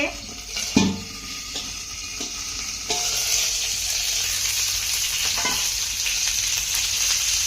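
Eggplant frying in a covered pan over a low flame, crackling and sizzling close up, with a few clanks early on before the sizzle settles into a steady, louder hiss.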